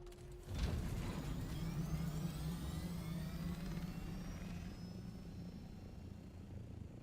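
An ornithopter flying in Dune: Awakening, a loud, steady whirring rotor and engine roar that starts abruptly and holds for several seconds with a slowly shifting whine, no voices over it.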